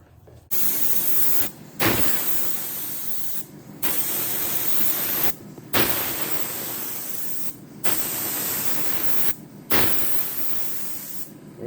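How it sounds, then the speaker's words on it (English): Bursts of spray-gun hissing as oyster white paint is sprayed in repeated passes of a second or two, with short pauses between them, loud and close, no talking. "hopefully in the next couple shots here you see us spraying some color on the old Ambrose"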